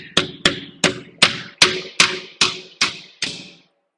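Nails being hammered into the sides of a loft build: eight sharp, evenly spaced ringing blows in quick succession, close and loud, with no talking.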